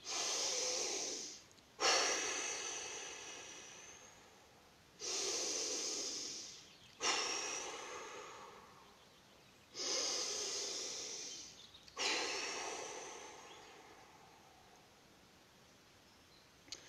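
Strong, deep breaths in a guided morning breathing exercise outdoors in a forest, three long inhale–exhale cycles, each a loud airy rush separated by brief pauses, close and alone without talk.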